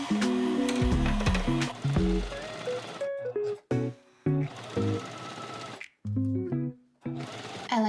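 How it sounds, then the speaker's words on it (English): A sewing machine stitches in loud, rapid mechanical bursts, stopping and starting several times with short pauses between runs. "I should probably plug in my sewing machine."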